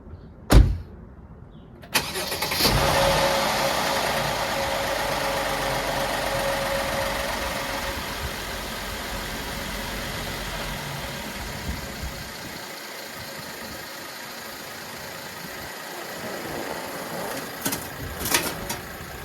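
A 2013 Mercedes-Benz ML350 4Matic fires up after a door thunk, its engine catching with a loud surge before settling into a steady, even idle that runs on alone until it quiets near the end.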